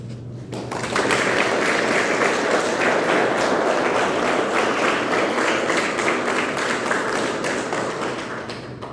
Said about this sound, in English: I'd like to please give a round of applause for the instructor staff in the MOAB Force